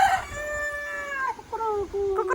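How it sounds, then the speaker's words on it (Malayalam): A rooster crows one long drawn-out cock-a-doodle-doo, near and loud, breaking into a couple of shorter falling notes at the end, with no talking. "കോഴിൻ്റെ സൗണ്ടിലും കോഴിനെ കാണാൻ ഭയങ്കര ഇഷ്ടം"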